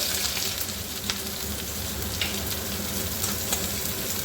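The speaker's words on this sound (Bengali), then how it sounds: "তেলটাও আমার গরম হয়ে গেছে এরপরে আমি দিয়ে দেবো কুঁচানো পেঁয়াজ একটা বড় সাইজের আর একটু কাঁচা লঙ্কা" Chopped onion and green chilli sizzle and crackle in hot oil in a pan, a dense, continuous frying hiss with scattered pops, close up and without talk.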